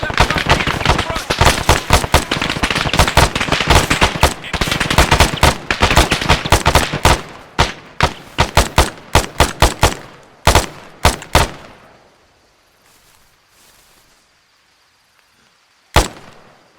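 Gunfire in the military shooter game ArmA3, dense rapid bursts of close shots giving way to sparser single cracks, then near silence broken by one last loud shot.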